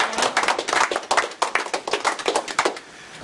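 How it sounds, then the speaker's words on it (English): Audience applause during an energy healing lecture, a small group clapping briskly and close by, steady for about three seconds before tapering off. "Give her a big round of applause."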